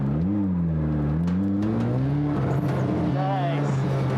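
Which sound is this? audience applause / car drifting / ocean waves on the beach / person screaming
car drifting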